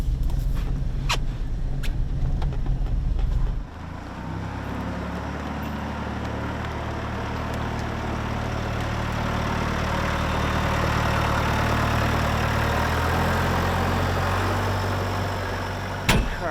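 A farm tractor with a bush hog mower hooked up runs in front of a house, a steady low engine drone that holds for the length of the clip, preceded by brief clatter and a rougher rumble.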